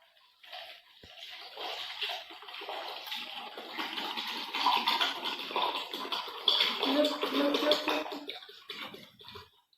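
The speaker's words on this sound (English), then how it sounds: "let's pour this water, this 1 liter water into this mug." Water being poured from a container into a mug, a soft continuous splashing and gurgling pour that builds and lasts several seconds, fairly quiet with no talking.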